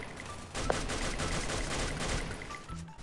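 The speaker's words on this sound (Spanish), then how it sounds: "el tiro que acabo de meter" Gunfire in a shooting video game: a rapid fusillade of repeated shots in a steady, loud burst lasting several seconds, with a sharp crack near the start.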